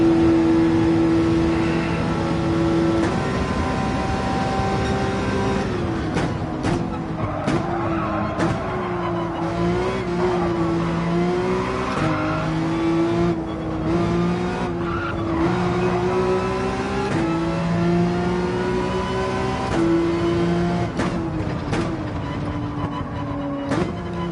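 A race car sliding in Gran Turismo 7, with steady engine drone and long wavering tyre squeal running continuously under the racing game's sound, loud and unbroken with no talk.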